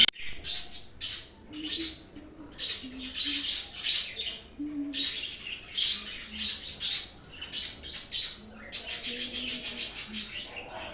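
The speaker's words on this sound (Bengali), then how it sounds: "ওই দেখো এ আবার চিৎকার চেঁচামেচি করছে, ভীষণ ঝোঁকগুতে পাখিগুলো।" Birds nearby squawk and chirp in repeated harsh bursts, ending in a rapid run of calls, heard clearly over a quiet background.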